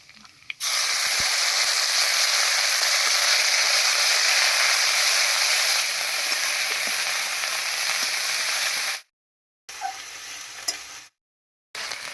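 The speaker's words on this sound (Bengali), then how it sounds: "কালো জিরাটা ভাজা হয়ে গেছে, দিয়ে দেবো পেঁয়াজ বাটা" Onion paste drops into hot mustard oil with fried black cumin and erupts into a loud, continuous sizzle, close by, that runs for several seconds and breaks off in two brief silent gaps near the end.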